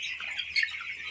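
A chicken on a poultry farm gives a short, high chirping call, fairly close and alone over a quiet background.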